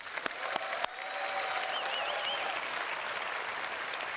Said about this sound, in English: please give a round of applause for Leah, please.